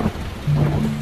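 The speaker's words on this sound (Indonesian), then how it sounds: "hujan besar tiba-tiba turun malam itu" Heavy rain pours down suddenly at night, a steady, dense hiss and roar that fills the brief moment without any voices.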